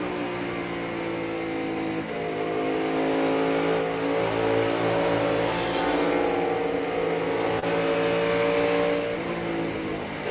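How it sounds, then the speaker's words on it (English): A NASCAR stock car engine revving hard and continuously, a loud buzzing roar that rises and falls in pitch as the car accelerates and shifts. "I just want to listen to the engine of Bubba and when the 5 checks up"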